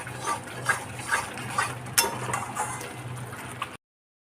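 Paneer masala being stirred and fried in a pan, with repeated scraping and clinking spatula strokes in an irregular rhythm, close by, ending abruptly in silence.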